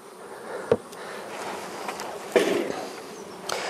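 Honey bees buzz in a busy, docile hive during a powdered sugar mite treatment, a close steady drone with a few louder passes and knocks from the hive.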